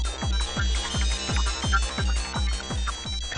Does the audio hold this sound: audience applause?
no